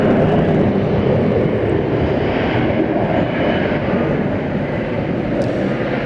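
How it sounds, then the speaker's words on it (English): American Eagle Embraer E175 jet airliner at DFW airport at night, a loud, steady engine roar that stays broad and constant with no talking. "This is an E-Jet, number 175."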